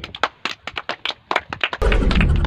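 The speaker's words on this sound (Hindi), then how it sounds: "बहुत खूबसूरत जवाब, जोरदार ताली।" Enthusiastic clapping on a comic Kaun Banega Crorepati quiz-show set, first as a series of distinct sharp claps, then swelling into a loud, full burst of sustained applause.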